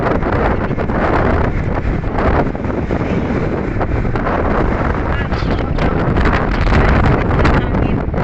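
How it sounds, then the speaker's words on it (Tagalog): Strong wind buffets the microphone outdoors in a continuous loud, rumbling roar with no letup across the whole stretch. "Oo, sobrang lakas ng hangin."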